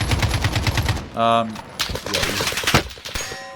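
AK rifle gunfire in a video game, a rapid automatic burst of close, loud shots followed by more scattered firing, with a tonal game sound and voice-like bits between.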